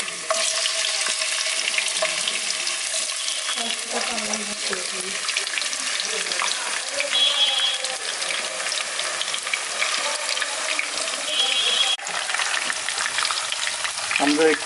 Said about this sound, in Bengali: সয়াবিন তেল দিয়ে এটাকে আমরা আলু যেটা কেটেছি সেটা ফ্রেঞ্চ ফ্রাইয়ের মতো